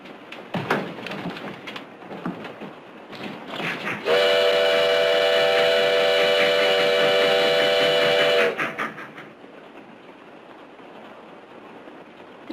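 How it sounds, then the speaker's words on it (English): A western-era train running fast gives off a steady rumble of wheels and track, then a loud multi-tone steam whistle blasts for about four seconds before the rolling noise carries on more quietly. "The train goes so fast."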